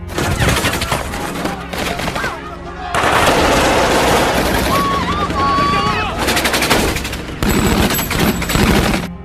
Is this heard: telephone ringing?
no